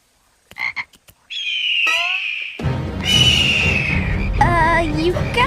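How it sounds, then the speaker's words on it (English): Cartoon frogs croak in the wilderness after being let go: a run of bright, warbling, wavering calls that swells into a loud, dense chorus over a rumbling backdrop, preceded by a few short voiced sounds. "Lincoln and Lana actually make it out into the wilderness and actually release the frogs"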